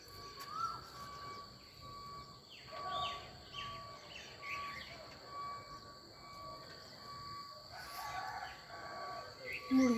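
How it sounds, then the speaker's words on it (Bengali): A rooster crows at a distance, faint against a busy outdoor background with rumbling, clattering noise and other scattered sounds. "মুরগি ডাকছে"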